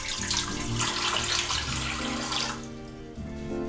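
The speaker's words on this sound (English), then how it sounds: "According to the user manual, we're to add 3 cups of water." Three cups of water pour into the inner pot of an Instant Pot DUO60 6-quart pressure cooker, a loud, continuous splashing stream that thins out and stops, then a brief trickle resumes.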